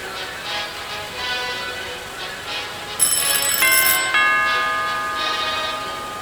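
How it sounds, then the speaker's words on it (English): A doorbell chime rings out with a couple of clear, bright tones that sustain and fade over a quiet background. "Doorbell."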